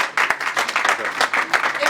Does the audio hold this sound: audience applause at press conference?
yes